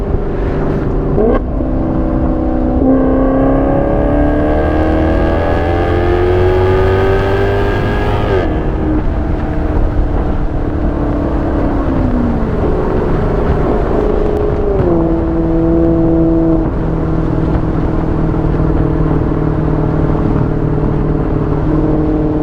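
A Maserati GranTurismo engine revs while driving, loud and close, climbing through gears with rising pitch, a brief drop at each shift, then settling into a steadier cruising drone with lighter throttle.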